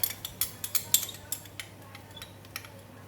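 A metal utensil stirs fried kway teow noodles with lap cheong and fried garlic in a pan, making a quick run of close, sharp clinks and scrapes that thin out into quieter taps.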